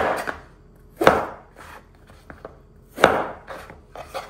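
A knife cutting pointed gourd lengthwise on a board, two sharp cutting strokes about two seconds apart with lighter taps and handling noises between, close by and without talk.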